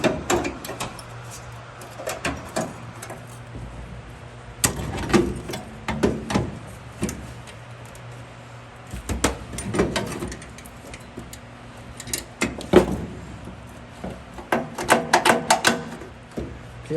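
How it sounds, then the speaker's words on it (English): Cut car body metal is wiggled back and forth until a spot weld breaks, giving intermittent close-up clanks, creaks and scraping bursts with quiet gaps between. "I'm gonna wiggle it till the spot weld breaks."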